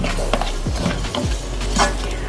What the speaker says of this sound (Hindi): चिकन को तकरीबन 2 से 3 मिनट तक भूनेंगे ताकि इसका कलर चेंज हो जाए।